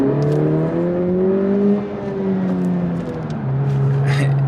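A 2020 Honda Civic Si turbo engine pulling hard in second gear from about 1500 RPM, a steady close rising drone with a slight dip partway through, heard from inside the car without talk.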